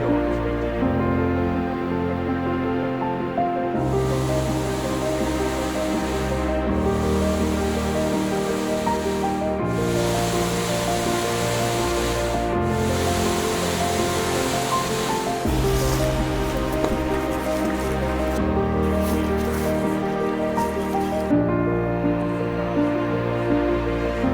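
A mountain stream flows in Val Prescudin, a loud, continuous broadband rush of water with steady tone throughout, no voices.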